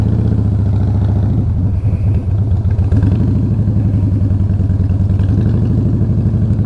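Steady, loud motorcycle engine drone while riding along a road, a continuous mid-pitched rumble with slight rhythmic clatter and no pauses throughout.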